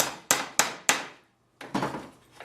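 Sharp hammer taps driving tacks to fasten stainless steel wire on a wooden beehive frame: three quick, evenly spaced strikes, a pause, then two more, close and clear with no talk.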